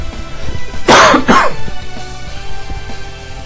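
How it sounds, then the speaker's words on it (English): Two sharp, close coughs in quick succession, with quiet background noise before and after. "I have to cough, sorry guys."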